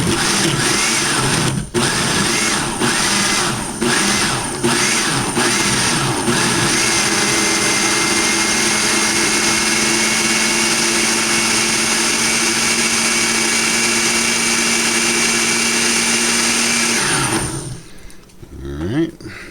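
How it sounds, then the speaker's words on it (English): A blender grinds tamale sauce, starting with several short pulses and then running as a loud, continuous high whirring roar that cuts off abruptly near the end. "now we'll blend it up, grind and crush."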